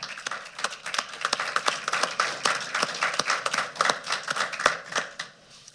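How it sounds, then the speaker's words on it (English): A small audience at a county board meeting claps for several seconds, sparse and distinct individual claps in an uneven patter rather than a full roar. "And we should all applaud."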